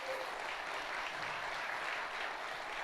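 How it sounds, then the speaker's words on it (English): Sustained applause from a seated audience at a 1 Million Cups Fargo community gathering, a steady even wash of many hands clapping throughout with no voices on top. "So let's give those folks a round of applause."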